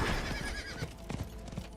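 A fiery horse mount in the video game Diablo 4 neighs with a shrill whinny at the start, followed by quick hoof clip-clops and snorting, fairly faint overall with no speech.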